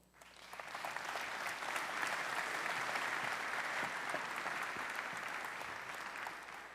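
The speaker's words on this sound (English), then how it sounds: "Please, a round of applause for..." Audience applause at a robotics company conference event, welcoming a volunteer called up on stage: steady, dense clapping from a sizable crowd that swells quickly and holds at an even level throughout.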